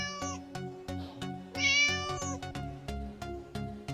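A cat-meow ringtone plays a series of repeated, tonal meows in quick succession, clear and close, with sharp ticking clicks recurring in a steady rhythm throughout.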